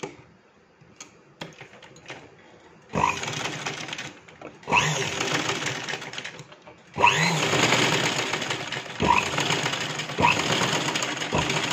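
A sewing machine stitching closely spaced pin tucks in fabric, several bursts of rapid, rattling stitching separated by short pauses with light handling sounds in between, close and fairly loud.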